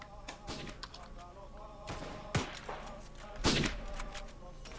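Gunfire from an online shooter video game rings out in scattered, fairly distant bursts, with a few louder shots standing out from the background clatter, and no talk over it.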